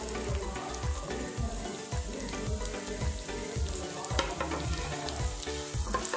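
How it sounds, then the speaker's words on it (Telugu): Sliced onions frying in oil for mutton keema curry, sizzling loudly and steadily with rhythmic clacks of a stirring spoon against the pan, close up and without talk. "ఉల్లిపాయ అనేది బ్రౌన్ కలర్లో వచ్చేంత వరకు వేయించుకోవాలి."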